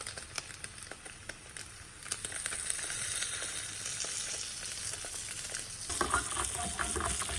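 Clarified butter sizzles in a pan with brain kavurma, a soft steady crackle that grows louder partway through, with light stirring ticks and no talking.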